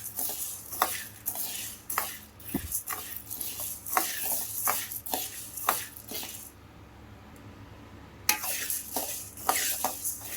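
Whole spices for sambar powder frying in a pan over low to medium heat, a soft sizzle broken by repeated sharp clinks and scrapes of a stirring spoon, briefly pausing before resuming.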